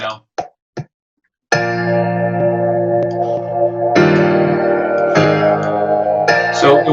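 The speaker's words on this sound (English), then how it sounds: "So I took the piano and added the crystallizer, as well as some additional echo and filters" A piano processed through a crystallizer with added echo and filters rings out as sustained, shimmering, metallic tones with glassy overtones and long echoing tails, preceded by a few brief vocal sounds.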